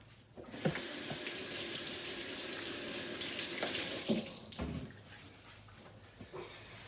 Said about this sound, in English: Just going to wash my hands here.